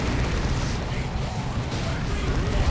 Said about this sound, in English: You can hear the stridulous sound of all those autocannons and assault cannons going off right there between the Land Raider, those Corn Havocs.